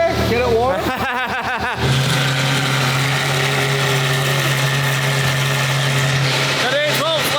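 A Porsche Carrera GT idles just after a cold start, giving off a steady, even drone that runs throughout, while people talk over it at the beginning and again at the end.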